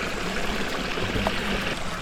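Ice-cold mountain stream along the Lake O'Hara loop trail in the Canadian Rockies rushes in a steady, close, full wash of flowing water with no voices.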